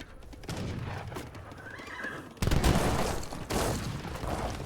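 Horse artillery in the Age of Empires III real-time strategy game, with horses neighing amid a dense battle din of booms and gunfire that swells sharply partway through, loud and continuous.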